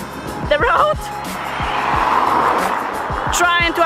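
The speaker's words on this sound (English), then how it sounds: "trying to avoid the cars" Cars roll past on a road in Putrajaya, Malaysia, their tyre and engine noise swelling and fading close by, with a voice talking over the traffic.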